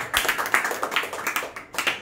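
A church congregation claps its hands in praise, a quick run of sharp, close, fairly even claps forming a brisk rhythm with one brief pause near the end.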